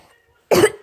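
A person coughs twice, close and loud: a harsh burst after a near-silent pause, then a second cough cut off at the end, with no talk over it.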